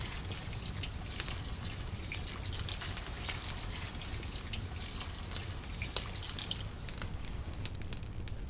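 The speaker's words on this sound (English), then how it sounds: "We add some water until we cover the meat, and we let it cook for at least 2 hours." Water splashes into an outdoor pot of wild boar stew until the meat is covered, a continuous hissing, dripping pour with small sizzles and clinks, close and fairly steady throughout.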